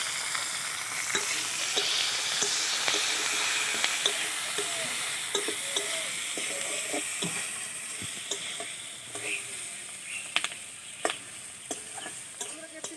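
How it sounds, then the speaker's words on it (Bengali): Capsicum frying in oil in a pan, a continuous close crackling sizzle with scattered sharp pops and stirring ticks, easing slightly toward the end. "ক্যাপসিকামগুলো আমি ভেজে নিলাম"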